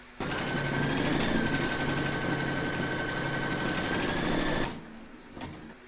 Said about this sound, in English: Pop your hoop into your machine, and then you're going to stitch round number 2 to secure it.